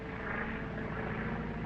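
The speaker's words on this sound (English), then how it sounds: "It's a government plane. They are closing in." A government propeller airplane passes overhead, a steady droning engine hum that fills the scene at constant loudness without pause.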